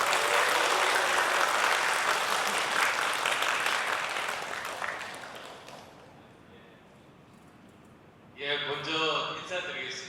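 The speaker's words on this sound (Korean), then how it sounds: "큰 박수로 맞이해 주시기 바랍니다." Applause fills a hall at a parents' education talk concert in Busan as guests are introduced. The clapping is strong at first, then thins and fades over several seconds before a speaker's voice begins.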